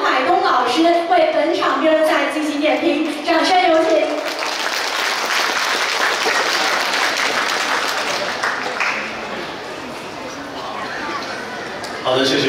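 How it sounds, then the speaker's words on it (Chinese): Audience applause fills the hall after a debate competition final in Shenzhen, loud sustained clapping that follows a voice speaking over it at the start and then continues steadily on its own. "掌声有请"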